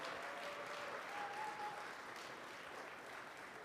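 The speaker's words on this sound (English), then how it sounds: "Give yourselves a round of applause for being here today," Audience applause fills a peace teach-in, a steady wash of many hands clapping at moderate distance, holding evenly for several seconds without anyone talking.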